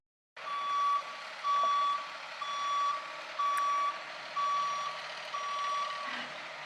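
A box truck reversing sounds a loud series of evenly spaced beeps, each held about half a second, over a low idling engine rumble.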